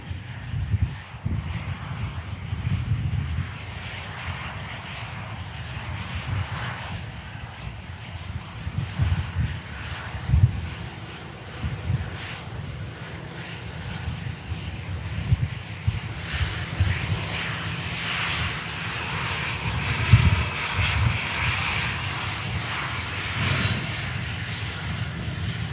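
A Ryanair jet taxis and lines up on the runway at Manchester Airport, giving a long, steady, distant engine roar with a low rumble and some wind buffeting, and no voices.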